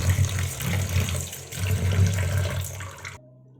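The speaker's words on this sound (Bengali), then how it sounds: "এবার আমি মাথাগুলোকে একটু ভালো করে ধুয়ে নেবো।" Prawn heads being rinsed under a running kitchen tap, a steady close rush and splash of water that cuts off abruptly just before the end.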